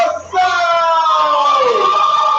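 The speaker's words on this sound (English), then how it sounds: "And keep the applause going. Keep clapping. Keep clapping. Keep screaming." Audience at a live youth poetry slam screaming and whooping, a loud sustained crowd roar with high drawn-out shrieks that swell after a brief dip.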